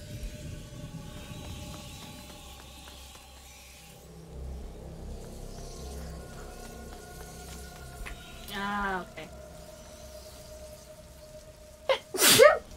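A sharp sneeze cuts in near the end, loud and close, following quieter vocal sounds and a low rumble in the background of the A Plague Tale: Innocence video game.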